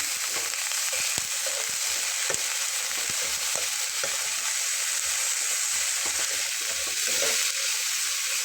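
Chopped carrots fry in a pan with a steady, even sizzle. A spatula clicks and scrapes through it at irregular intervals as they are stirred, and no voices are heard.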